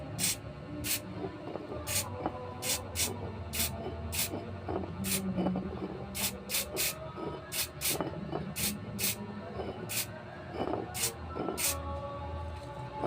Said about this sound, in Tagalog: Pag nag-i-spray kayo mga ka-fishing ng pintura, huwag nyong bibiglain dahil luluha yan